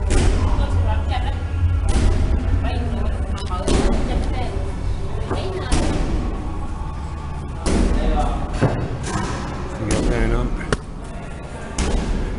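Balls bang repeatedly in Siem Reap, Cambodia, a string of loud, irregular thumps and slams spaced a second or two apart, with voices talking over them.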